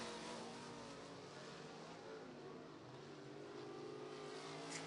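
Several California 305 sprint cars roar through a qualifying session on a racetrack, a steady, dense engine drone heard from a distance with slowly shifting pitch as the cars circle.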